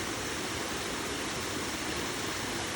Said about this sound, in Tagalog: galing dyan sa bundok na yan ay napakalakas ng tubig